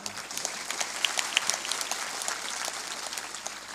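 Rhythmic hand clapping from a group at a spiritual talk on clapping for health, a steady train of sharp claps at moderate distance with faint background murmur.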